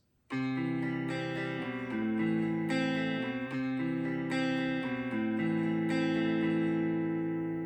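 An Aeroband digital guitar in standard tuning strums and picks a bright chord progression with a steady, clean tone, notes ringing out continuously without any speech.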